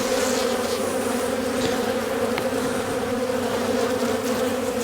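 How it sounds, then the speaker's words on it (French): Bees swarm and buzz loudly around a beehive in December as it is opened and tended, a dense steady drone close by with no break throughout. "Plus j'ai tous les abeilles qui viennent."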